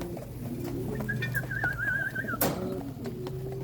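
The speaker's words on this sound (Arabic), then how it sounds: "شوفوا في الحمام بيض سبحان الله، عندها واحد الرونق خاص" Cooing of white domestic pigeons among other birds, a soft repeated call running steadily with a brief warbling whistle-like trill in the middle, set against a constant bird-room hum with no talking.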